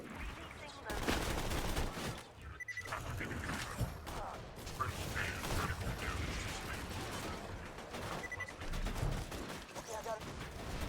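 Video game gunfire rattles in rapid automatic bursts with mechanical clicks and clatter, fairly loud and near, broken by a brief pause, with a faint voice murmuring underneath.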